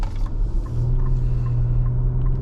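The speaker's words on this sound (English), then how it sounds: "And I like the sound of the engine." A deep, steady twin-turbo V6 engine rumble hums continuously from a 2025 Infiniti QX80 SUV, low and even with no speech.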